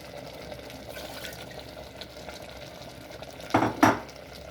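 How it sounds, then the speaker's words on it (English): Water splashes steadily into a pot of simmering Odia dalma, a lentil and vegetable dish, with a couple of louder sloshing bursts near the end. "you can add in water at this stage."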